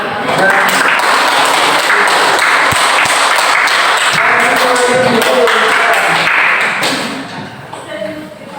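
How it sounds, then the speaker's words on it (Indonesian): Students applaud in a classroom, a dense, loud wash of clapping mixed with chatter and voices that runs steadily before tapering off near the end. "Tepuk tangan untuk kalian dulu."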